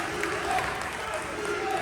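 Wrestling crowd at an event in Williamsburg, a steady dense roar of cheering and applause from a large audience, continuous and fairly loud throughout with no clear peaks.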